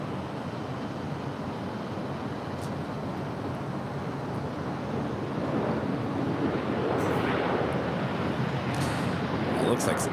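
A United Airlines Boeing 787-9 Dreamliner jet at LAX, heard as a broad, steady engine roar with wind-like rushing that swells slightly in the second half, far-off and fairly even.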